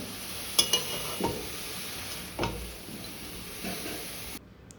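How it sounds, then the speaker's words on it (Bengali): Chopped bottle gourd with cinnamon and cloves fries in a pan. A soft continuous sizzle runs under several sharp utensil scrapes and stirs, heard close with no voices, and it cuts off abruptly near the end. "লাউটা দিয়ে আমি একটু ভেজে নেব।"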